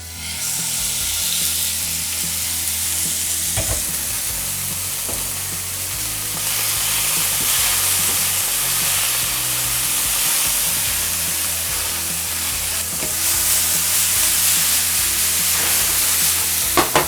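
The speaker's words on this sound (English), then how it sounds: "Let's sear the steak and cook it to medium rare," Steak searing in a hot pan for medium-rare beef for ramen, a loud, steady sizzle and crackle that swells and settles with occasional stirring clatter, with no talking.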